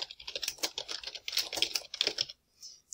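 Quick clattering keystrokes on a computer keyboard, a close, fairly quiet run of uneven taps that stops near the end.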